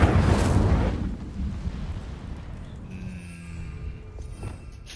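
Incendio fire spell cast in the video game Hogwarts Legacy: a loud, roaring burst of flame right at the start that swells for about a second, then trails off into a crackling rumble with faint tonal game effects behind it.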